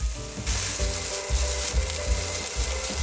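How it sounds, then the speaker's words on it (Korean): Steady sizzling of microwave-parboiled potatoes frying in a hot pan used for cooking meat, with occasional scraping and stirring sounds throughout; close and continuous, no voices. "고기 구운 팬에 전자레인지에서 살짝 익힌 감자 넣고 겉면이 노릇해지도록 볶아서 준비합시다"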